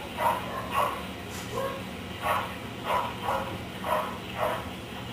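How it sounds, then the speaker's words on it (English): A dog barks repeatedly in the distance, a string of muffled, regularly spaced woofs over a low steady background hum. "Barking in the background."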